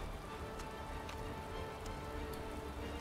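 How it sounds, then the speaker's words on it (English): Rain falling steadily during a race in the Motorsport Manager video game, a continuous hiss of downpour with occasional brighter droplet ticks, even and moderately loud throughout. "It is raining! Oh dear. It's a rainy race!"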